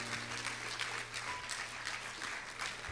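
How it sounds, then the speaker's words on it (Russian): A church audience at a Christmas evening celebration claps steadily and fairly densely for a few seconds. The applause is even and sustained, heard from within the room. "Большие аплодисменты. Ваши аплодисменты."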